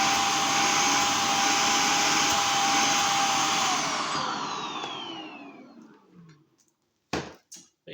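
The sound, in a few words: vacuum cleaner suction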